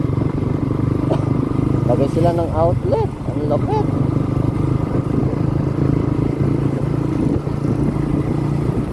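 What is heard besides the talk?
motorcycles passing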